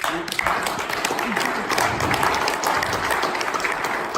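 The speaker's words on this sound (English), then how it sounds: "Can we just start giving them applause, please?" Church congregation applauding together, a steady broad wash of clapping from a crowd with some voices mixed in throughout.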